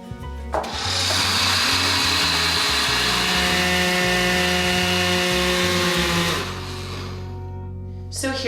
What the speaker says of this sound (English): get everything into your blender before you start.